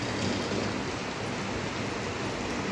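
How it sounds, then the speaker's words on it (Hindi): Steady first rain in Chennai, a dense continuous hiss of falling water that stays even and fairly loud throughout, with no voices. "चेन्नई की पहली बारिश"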